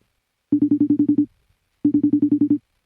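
A telephone ring comes through as a call connects on a phone line, two bursts of rapid, evenly pulsed electronic trilling, close and clear, separated by a short silence.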